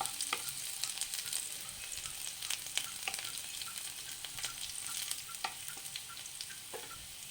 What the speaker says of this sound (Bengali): রসুনগুলো এরকম করে দিয়ে দেবেন, আর কম স্টিমের মধ্যে একটু ভাজা ভাজা করবেন।